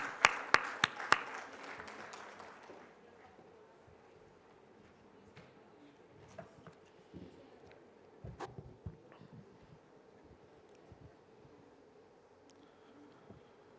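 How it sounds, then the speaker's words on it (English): A burst of scattered audience clapping at an award presentation ceremony, sharp and close at first, then thinning quickly into faint, sparse claps against a quiet hall. "A warm round of applause,"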